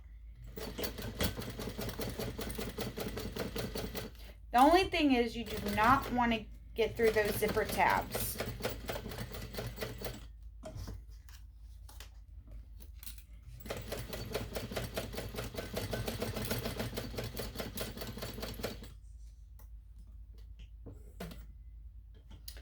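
A sewing machine stitches across three sides of a fabric ID pouch with zipper tabs, its rapid mechanical whir running in steady bursts with brief pauses, while someone talks over it.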